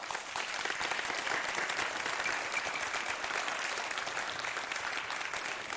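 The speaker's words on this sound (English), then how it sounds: "Let's give them a round of applause." An audience at a community town hall on e-bike safety gives a round of applause, an even, sustained burst of many hands clapping for several seconds.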